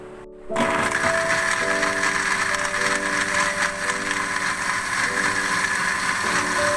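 A blender whirs steadily at close range as it blends a date and almond milkshake with ice cubes, holding a loud, even motor drone with shifting pitch for several seconds with no talk.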